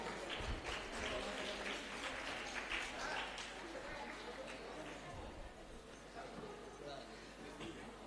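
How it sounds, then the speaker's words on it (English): At a youth biodiversity conference valedictory ceremony, an audience claps for dignitaries on the dais while chatter and voices run underneath, leaving a fairly faint, busy mix of clapping and crowd murmur. "huge round of applause for those dignitaries on the dais"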